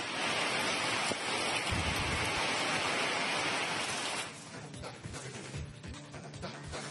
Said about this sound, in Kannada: ನೀವು ಶಿವಮೊಗ್ಗದಲ್ಲಿ ಮಳೆಯಾಗಿದೆ. ಮಳೆಯಿಂದಾಗಿ ಜನ ಸಂತಸಗೊಂಡಿದ್ದಾರೆ.